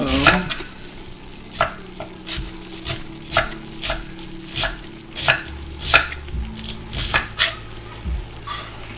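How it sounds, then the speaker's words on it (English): A small head of cabbage is chopped with a knife on a cutting board in a home kitchen while soup is made, giving about fifteen sharp, close, evenly spaced chops with light kitchen clatter and a faint hum beneath. "this little tiny head of cabbage, once you get done chopping it up"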